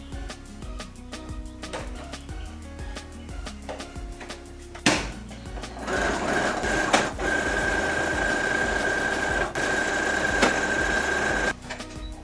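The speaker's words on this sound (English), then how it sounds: "now and I'm going to stitch them together." A sewing machine stitches swimsuit fabric pieces together in a steady mechanical whir. Softer taps and clicks come first, then a louder continuous run for several seconds that stops near the end.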